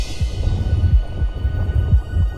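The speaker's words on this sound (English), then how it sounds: "I can hear the heartbeat." Mighty heartbeat sound effect, a close, heavy low-pitched lub-dub throbbing in a steady rhythm over a constant hum, with about four beats alone and no talk.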